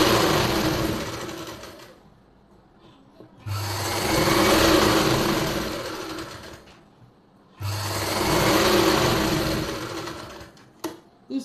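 Sewing machine stitching around the hem of a palazzo in a boutique, running in two long steady bursts with a short pause between, close and fairly loud, each run whirring evenly before stopping.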